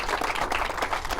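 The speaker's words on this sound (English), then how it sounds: "I think they deserve just a huge round of applause" Dense applause from a crowd at an outdoor bridge ribbon-cutting ceremony, many hands clapping steadily and fairly close throughout the brief moment.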